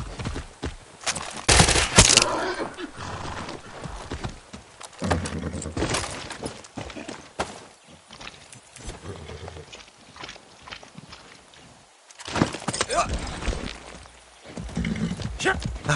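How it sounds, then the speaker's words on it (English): Horse galloping with hooves clip-clopping in Far Cry 6, set amid gunfire from battles fought with an automatic pistol; bursts of loud hoofbeats come and go, mixed with shots and a rider's voice. "That's a good horse."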